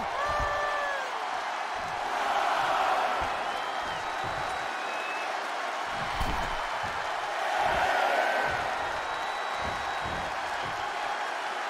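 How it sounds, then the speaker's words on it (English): A large crowd roars and cheers continuously in the video game WWE 2K23 during a Royal Rumble match, swelling in two loud surges, with scattered claps and whoops in a big echoing arena. "Listen to this crowd count the next one in."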